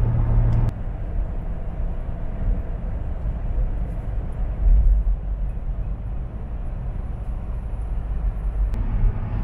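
Inside a Jeep driving along a road, a steady low rumble of engine and road noise fills the cabin throughout, with a couple of sharp clicks near the start and end and a brief swell midway.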